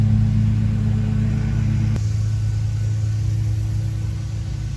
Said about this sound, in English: I would like to apologize for the lawnmower noise in the background